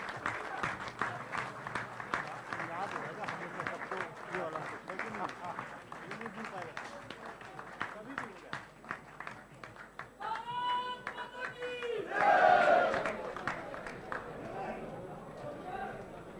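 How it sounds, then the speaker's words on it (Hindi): Audience at a hotel event in Delhi honouring Olympic medal winners applauding the women's hockey team, sustained clapping fading and returning, with a loud burst near the end and speech over parts of it. "जोरदार तालियां please for the women's hockey team who made our country proud with their performance at"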